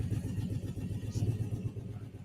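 A car engine with velocity stacks runs and revs, a loud, continuous rumbling drone with rhythmic pulsing that holds steady throughout, with no talking.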